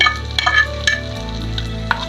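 Oil and garlic sizzle and crackle steadily as a tempering is poured into a chilli garlic sauce, with a few sharper spits and pops, close and moderately loud.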